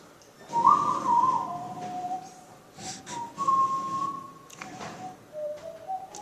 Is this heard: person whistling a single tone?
yes